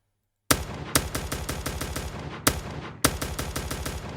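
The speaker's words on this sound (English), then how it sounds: "this attack and release actually gives this audio effect the suppressor audio effect" Several quick bursts of automatic gunfire, normal gunshots processed to simulate a suppressor: a loud opening shot, then softer, damped follow-up rounds in a fast, rattling rhythm.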